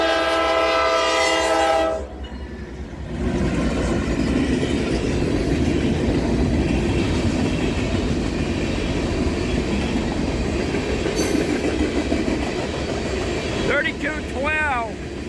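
A freight train led by a BNSF locomotive rolls past with tank cars. A loud horn blast opens, then steady, close clickety-clack and rumble of wagons continues, with brief squeals near the end and talking over it.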